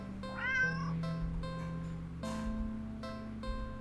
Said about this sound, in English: Big box, huge black cat. It's a cat.